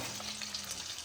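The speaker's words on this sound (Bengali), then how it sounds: "এই মাছটা ভাজছিলাম তাই জন্য ফটাফট ফটাফট আওয়াজ হচ্ছে" Steady, dense sizzling and crackling of fish frying in hot oil, close up and continuous, with no voices.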